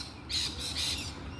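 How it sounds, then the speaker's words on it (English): Birds in an Australian backyard give two harsh, shrill squawks in quick succession, moderately close, over quiet background hum. "Plenty of birds,"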